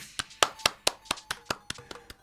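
A dozen or so sharp, evenly spaced claps ring out at a steady rhythm, fairly close and fairly quiet, with no voices.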